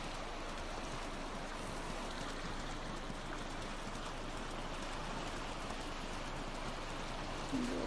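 A flowing stream current in a video game rushes continuously as a steady, even wash of water noise with no breaks or voices.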